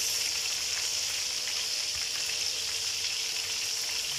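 Garlic and onion sizzle in a hot pan, a steady broadband hiss of frying that holds even and close throughout with no talking.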